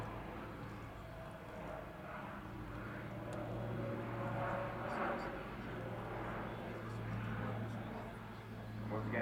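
An Airbus A400M Atlas military transport performs a flying display at the RIAT 2014 air show, its turboprop engines a distant rumbling roar that slowly swells and fades, with a commentator talking over the public address.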